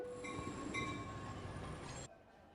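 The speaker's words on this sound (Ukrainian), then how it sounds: "зараз приїде наше метро" A metro train runs through an underground station with a steady rumbling roar and high tonal wheel whine, loud and continuous, then the noise drops off abruptly as it comes to a stop.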